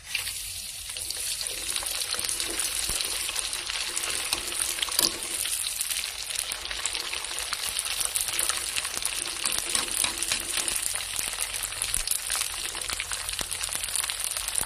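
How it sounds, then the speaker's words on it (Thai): Pork rinds frying in hot oil: a continuous, bright, hissing sizzle with fine crackles, steady and close, with no talking. "ทอดทีละหน่อยค่ะ อย่าทอดเยอะค่ะ"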